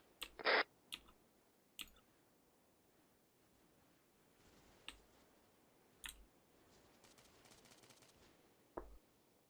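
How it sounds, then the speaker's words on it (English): Gunfire in the ARMA 3 game during an OPTRE campaign mission: a handful of sharp, scattered shots and clicks, some in quick pairs, spaced out over quiet ambience and sounding fairly distant. "Please tell me those gunshots were you."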